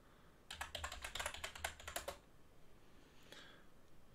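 Rapid keystrokes clatter on a computer keyboard as a root password is entered, a quick burst of crisp clicks lasting under two seconds, close and clear, followed by a couple of faint taps in a quiet room.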